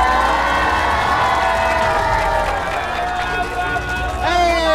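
A lively outdoor neighborhood crowd cheers and claps during a cash giveaway show. Excited, overlapping shouts and voices stay loud and close throughout, with clapping mixed into the commotion.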